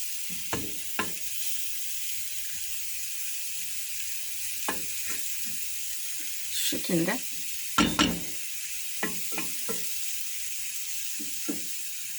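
Cheese frying in a pan on low heat and being stirred with a wooden spoon, giving a steady soft sizzle with scattered scraping clicks and taps, while a voice speaks briefly.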